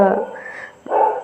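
Dogs on a village street during the Sankranti festival morning give a couple of close, sharp barks, separated by a brief pause, with a person's voice in the background.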